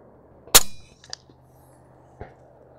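A single sharp rifle shot with subsonic .300 Blackout Stealth ammunition on an outdoor range, a loud crack that decays quickly, followed by a few faint knocks and a later soft thud like the bullet striking the berm.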